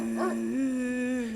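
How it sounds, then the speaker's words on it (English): A dog in the horror game Spirit Hunter: NG whines in a high, wavering, drawn-out tone, loud and close, with no talk over it. "Dog is whining like I'm afraid of something."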